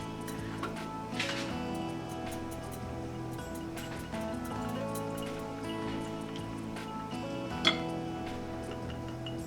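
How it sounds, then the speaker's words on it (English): An egg and milk are whisked together in a bowl for an egg wash for homemade pav buns, a rapid, steady run of light clicking taps, fairly faint and close, with no talk. "I'll just add in milk and whisk it"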